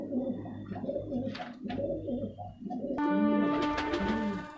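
A young Rampuri pigeon coos in soft, low repeated murmurs at close range, and other bird chirps join toward the end.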